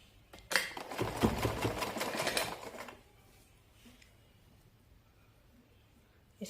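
A sewing machine stitching a cushion cover runs in a loud, rapid burst for about two seconds, then stops, leaving quiet handling noises.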